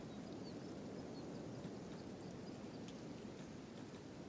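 Rain falls steadily in the open-world game Kenshi, a soft, continuous hiss of drops with no breaks, faint and even throughout, with no voices over it.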